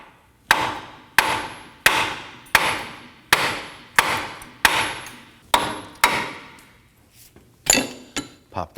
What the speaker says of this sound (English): I'm going to strike the knuckle here.